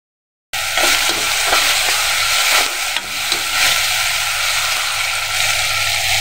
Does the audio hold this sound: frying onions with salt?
yes